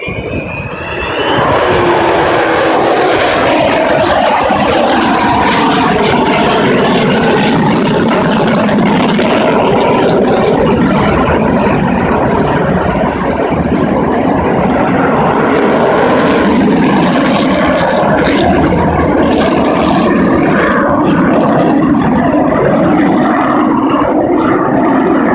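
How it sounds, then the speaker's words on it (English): Avro Vulcan bomber with four Rolls-Royce Olympus 202 turbojets at an airshow, a loud continuous roaring jet engine rumble that swells and persists throughout as the aircraft climbs in a spiral nearby, with no talk. "Magnificent sound of 4 Rolls-Royce Olympus 202 engines"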